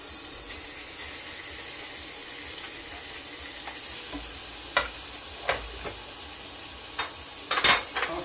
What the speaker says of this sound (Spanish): ahora le vamos a agregar, ya escurrido, nuestro atún